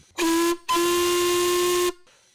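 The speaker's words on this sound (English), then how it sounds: "the train's whistle echoes as far as town." A Bala Lake Railway steam train whistle sounds twice, a short loud blast then a longer sustained one, clear and piercing, followed by fading echo.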